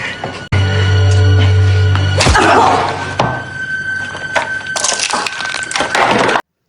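A skateboard is smashed and broken during a bullying scene, with a sharp wooden crack and thud standing out over a dense, noisy background.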